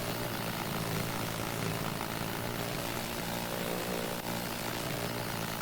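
A flying creature in the game Tchia whirs like a helicopter, a steady, loud rotor-like drone with a low pulsing buzz that holds evenly throughout, with no voices over it.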